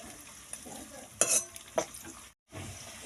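Papaya curry cooks in a pan, giving a steady close sizzle with scraping stirs and a few sharper clatters midway, then a brief silent gap before the frying resumes.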